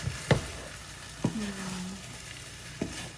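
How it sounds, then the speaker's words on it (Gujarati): A spoon scrapes and knocks against a pan while spiced pav bhaji mixture is stirred, giving three sharp clacks spaced out over a faint sizzle, with a brief scraping drag after the second. "અને ફરીથી હરખું મિક્સ કરી દઈશું"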